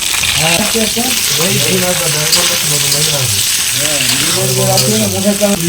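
Cut potatoes and eggplant fry in hot oil over browned onion and garlic, giving a steady close sizzle while a voice talks over it in gliding, melodic tones.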